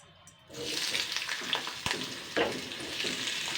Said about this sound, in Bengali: এবারে আমি মিষ্টি কুমড়োটা হালকা করে একটুখানি ভেজে নেবো